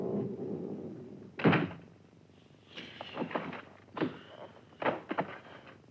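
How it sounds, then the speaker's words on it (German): Door sounds in an old church rectory, a solid thump followed by shuffling, clunks and rattles as it is handled, moderately close, with no talk. "Die Tür."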